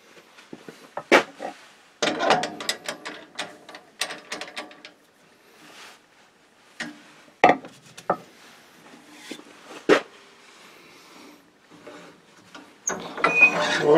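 A zebra wood bowl blank is mounted on a wood lathe, giving scattered knocks, clicks and ratcheting clatter at close range with quiet gaps between them and a denser burst of handling noise at the end.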